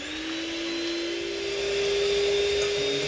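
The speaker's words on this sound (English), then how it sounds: "Let's start to whisk the egg white first." Steady electric hand mixer whirring as it whisks separated egg whites for a flourless chocolate cake, a continuous close motor drone with a slight pitch drift and no talk.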